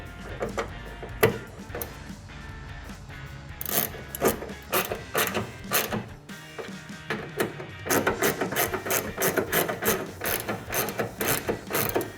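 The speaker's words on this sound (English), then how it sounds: "Move on to the ratchet." A ratchet wrench tightens the bolts on a matte black RedRock Baja upper replacement grille for a 2006-2008 RAM 1500. It gives dense, rapid clicking in bursts that grow busier and louder toward the end, close by and with no talk over it.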